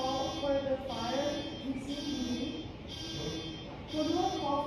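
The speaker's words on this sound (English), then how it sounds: "Who do I call for the fire alarm?" Apartment fire alarm sounding at night, a repeating electronic buzz in regular pulses about once a second, moderately loud indoors, with faint voices talking in the background.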